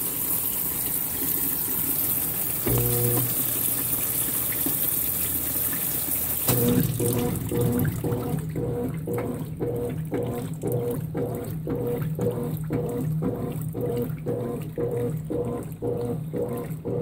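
A Consul 16 kg washing machine fills with water for its first rinse: a steady gush of incoming water, joined midway by rhythmic low mechanical thumps or agitation pulses repeating roughly every second, close and continuous.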